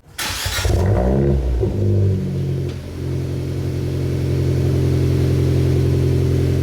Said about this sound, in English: let's listen to a before and after of the downpipe